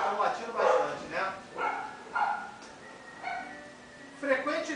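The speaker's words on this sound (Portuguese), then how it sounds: "Hoje os cachorros estão latindo bastante, né?" Dogs bark repeatedly at a moderate distance, roughly seven sharp barks in an irregular rhythm over a quiet background.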